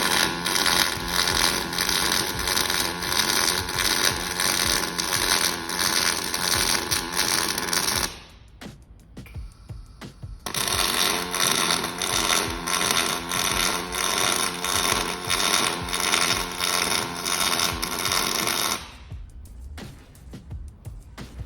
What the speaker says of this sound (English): the Cobot will put another circle weave vertical down in this corner and then two more identical step weaves.